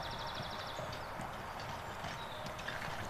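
Rottaler horses' hooves clip-clop at a steady walking rhythm, moderately close, with a continuous rumbling background and no talking.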